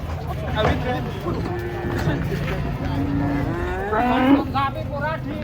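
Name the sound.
cattle mooing as giant cows come off a truck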